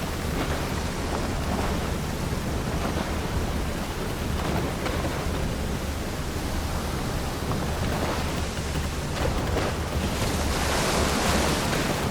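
Ocean waves wash steadily against a boat while sailing in the video game Horizon Forbidden West, a continuous broad surf rush with a low rolling swell, no voices, swelling slightly louder near the end.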